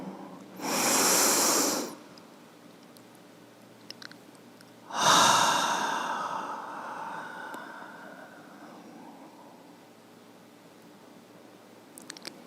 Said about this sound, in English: And another inhale.